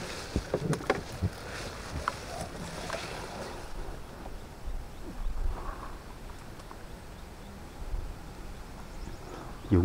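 A small boat is paddled across water on a trip to check fish traps, with soft splashes and occasional hollow knocks over a steady open-water ambience and no talking.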